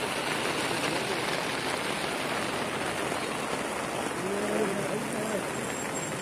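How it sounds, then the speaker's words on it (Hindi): Heavy rain pours down steadily outdoors, a dense loud hiss of drops on surfaces filling the whole stretch with no break. "बारिश थोड़ा ज्यादा है।"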